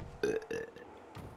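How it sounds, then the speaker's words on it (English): A person burps on command during a playful chat over a Rocket League game, with two loud, deep belches in quick succession followed by a fainter third, heard alone without talk. "I can burp on command"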